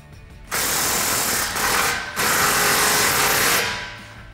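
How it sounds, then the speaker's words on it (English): A power tool, likely an impact driver with a 15 mm socket, tightens an exhaust clamp on a 2021-2022 Ford F-150 Corsa sport exhaust: two loud, close bursts of whirring and ratcheting with a short break between them, with no talk. "tighten it down with a 15 millimeter socket"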